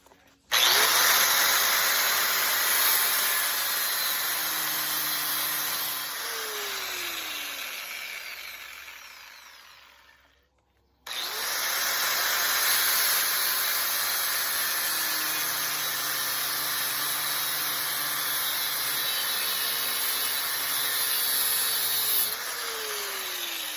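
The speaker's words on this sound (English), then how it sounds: "I'm going to cut the outer race off, split that off." High-pitched power tool grinding steadily through a differential bearing outer race during a 1966 Mustang 7.25-inch rear differential rebuild, loud and close, running in two long passes with a short stop between them.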